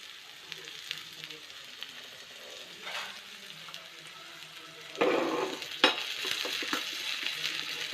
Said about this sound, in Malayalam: ചെറിയ ഉള്ളി കൊണ്ട് വറുത്തിട്ട്